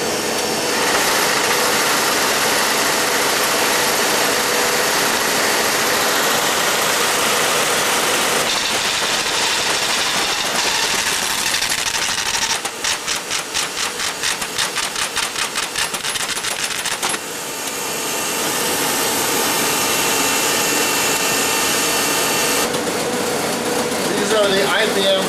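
A 1960s IBM data-processing computer loads and runs a program, with a loud continuous mechanical whir and a burst of rapid, machine-gun-like chattering partway through.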